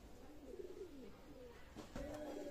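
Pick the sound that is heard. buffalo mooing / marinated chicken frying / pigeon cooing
pigeon cooing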